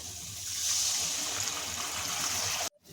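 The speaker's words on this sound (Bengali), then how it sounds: "গ্যাস বাড়িয়ে দিচ্ছি আর এবার দিয়ে দিচ্ছি গরম জল" Hot water pouring steadily into a pan of oil-rich spices cooked down over a gas flame, a continuous bright rushing splash close by that cuts off abruptly near the end.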